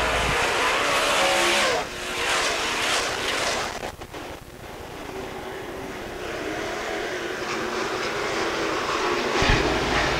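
Modified race cars speed around Fairmont Raceway, engines roaring past one after another with sharp drops as each car passes, then a steady nearby engine drone. No voices are heard.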